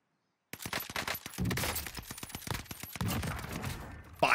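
Rapid bursts of gunfire from a firefight in the video game Call of Duty: Warzone, loud and close, with sharp repeated shots cracking over a steady din of game action.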